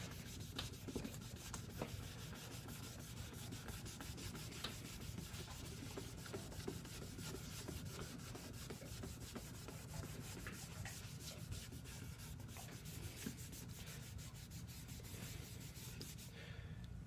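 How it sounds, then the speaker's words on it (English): An old wooden military surplus rifle stock is scrubbed up and down in steady repeated strokes, a faint continuous rubbing and brushing sound without pauses. "just give it a very general scrub down, pretty much go up and down the stock like this"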